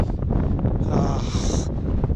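Strong wind buffets the microphone with a steady low roar, rising briefly to a hiss in the middle.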